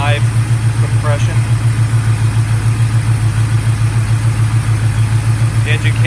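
A 1981 Camaro Z28 with a 350 V8 taken from an '81 Corvette, fitted with domed high-compression pistons, idles with a loud, steady, lumpy low rumble that pulses evenly throughout, close by, with faint voices briefly in the background.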